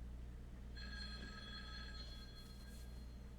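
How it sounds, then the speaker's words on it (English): A telephone bell rings once in a faint burst of trilling, heard alone over a low steady hum. "My phone is ringing."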